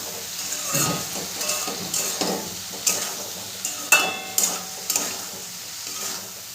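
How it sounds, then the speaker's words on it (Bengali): Jujube (kul) pickle cooking in a covered pan is stirred, repeated scraping strokes of the spoon over a steady frying sizzle and hiss, close up and alone without talk. "ঢাকনাটা তুলে বারে বারে একটু নাড়তে হবে, নাহলে তলায় লেগে যেতে পারে।"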